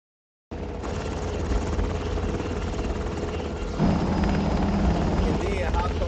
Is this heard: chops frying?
no